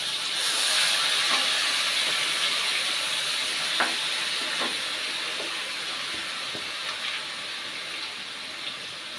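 Ginger, garlic and onion paste frying in oil, a steady loud sizzling hiss throughout with a few faint pops and crackles, close and continuous.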